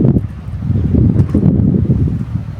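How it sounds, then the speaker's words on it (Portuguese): Strong wind blowing outdoors, a loud, steady low rushing roar buffeting the microphone with slight gusty swells and no break for a few seconds. "Ó o vento que tá"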